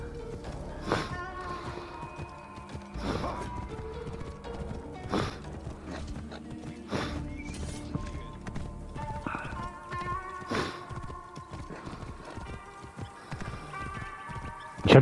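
A horse gallops in the video game Assassin's Creed Origins, its hooves clip-clopping in a steady, rhythmic beat with occasional neighs and whinnies layered over quiet game ambience.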